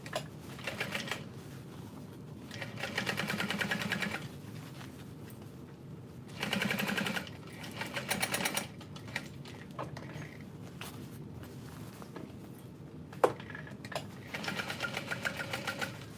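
A sewing machine stitches a leather backpack in short runs of rapid mechanical chattering, separated by pauses and clicks, heard close and fairly quiet.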